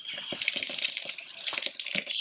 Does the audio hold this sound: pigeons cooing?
no